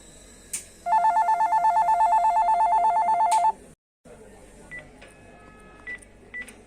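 A Panasonic KX-TGC310 cordless phone under repair sends out a rapid, evenly pulsed run of dialing tones for about two and a half seconds. A few faint beeps follow against low background hiss.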